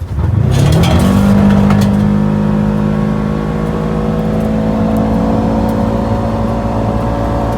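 A 2023 Polaris Ranger XP 1000 Northstar UTV launches from a stop in two-wheel drive, its engine rising from an idle into a loud, sustained high-revving drone that holds steady as the vehicle pulls away, heard from inside the cab.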